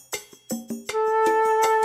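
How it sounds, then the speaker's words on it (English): A flute head joint blown with its open end covered gives a few short breathy tones, then a steady, clear sustained pitch close up with audible breath noise. "If you cover the end of the head joint, the pitch should sound like this."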